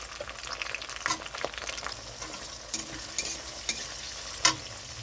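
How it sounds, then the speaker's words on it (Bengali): Tomato sizzles in a pan with already fried onion, close and steady, while a spatula scrapes and taps the pan in irregular bursts during a kochur loti prawn dish. "এখানে পেঁয়াজটা ভাজা হয়ে গেছে। এখানে দিয়ে দিচ্ছি টমেটো"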